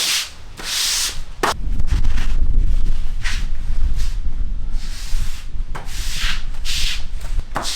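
Steady abrasive scrubbing of a dirty surface in a workshop garage where a 1969 Mustang is being worked on, a loud continuous rasping rub broken by a few short pauses.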